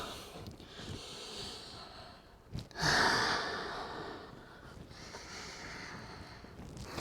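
Deep, slow breathing during a yoga forward fold, heard up close as long airy inhales and exhales, with one sharper sniff-like catch before a strong breath in the middle, and no talk.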